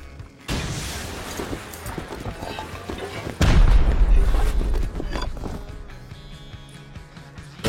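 Gunfire and heavy booming blasts in the survival game Rust during a clan server raid, loud and dense with a big low-end burst midway, with game noise throughout.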